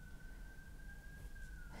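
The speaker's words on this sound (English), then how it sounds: "We've got another siren in the background." A distant siren wails faintly in the background with a steady, thin tone that barely rises above a quiet room's hum.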